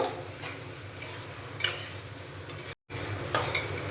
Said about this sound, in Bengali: এই সময় অল্প একটু লবণ দিয়ে দেব লবণটা ভালো করে মিশিয়ে নেব